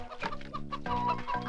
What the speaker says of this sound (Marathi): माझ्या कोंबडीचा आवाज यायला लागले